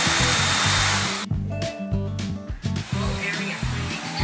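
A Narwal S10 Pro robot vacuum cleaner runs with a loud, steady whooshing roar that drops and changes pitch partway through as the suction setting shifts, with tonal beeps and a synthetic voice prompt heard over the motor.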